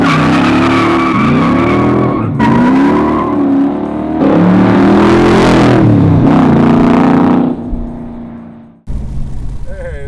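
Roush 427 Backdraft Cobra, a 427 V8 in a 2,400-pound car, revs hard and accelerates with loud skidding tire squeal in repeated surges, close and dominant, before easing off near the end.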